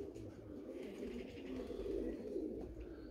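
Pigeons coo in low, soft, rolling murmurs that continue steadily, close by, with faint rustling and no speech.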